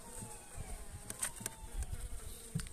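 Honeybees buzzing inside a hive that is left with only a small cluster of bees, a close, continuous hum with brief louder passes of individual bees.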